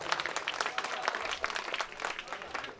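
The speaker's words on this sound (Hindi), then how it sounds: "एक बार जोरदार ताली ओहि पंचायत प्रतिनिधि के लेल" An audience at a community stage programme claps loudly for panchayat representatives, a steady burst of applause heard alone.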